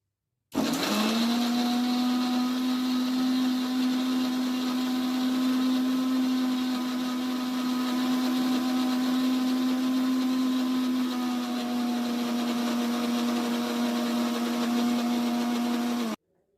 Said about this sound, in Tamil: அது மட்டும் பழுத்த நாட்டு தக்காளி பெருசு 2 ஆட் பண்ணி நல்லா கிரைண்ட் பண்ணி எடுத்துக்கோங்க